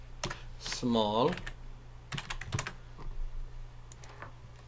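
Light clicks of typing on a computer keyboard while entering a spreadsheet formula, a few scattered soft keystrokes close by, with someone speaking over them.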